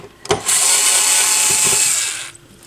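A power screwdriver whirs steadily for about two seconds, backing a screw out of the bottom panel of a Technics SL 1301 turntable, with a click at the start and close, loud, even motor noise and no talking.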